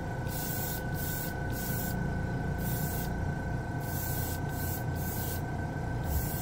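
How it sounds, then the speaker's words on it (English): Steady airbrush hiss blowing dust off a piece being prepared for spray-can gold and silver paint, a continuous close rush of air with pulsing bursts and a faint underlying hum. "I'm blowing some dust off this piece."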